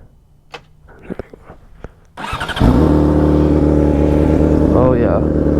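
A car engine catches after a few faint clicks and handling sounds, then settles into a loud, steady idle as it warms up, droning close by and alone to the end.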